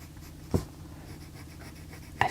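A Faber-Castell Goldfaber coloured pencil scratches on paper in two brief, soft strokes, separated by a quiet pause and close to the microphone, with no voice.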